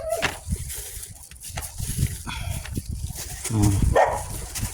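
A dog barks a few times amid outdoor noise on a rural farm, with other animal sounds and scattered voices around it.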